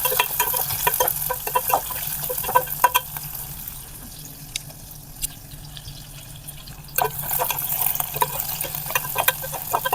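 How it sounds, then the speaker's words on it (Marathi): Sliced onion fries in a pan with garlic for rasam rice, giving a steady close sizzle with crackles and stirring scrapes, quieter in the middle before the sizzle comes back strongly, with no talking. "आपण उभा चिरलेला कांदा घालूयात आणि कांदा हलकासा सोनेरी रंग येईपर्यंत परतून घेऊयात"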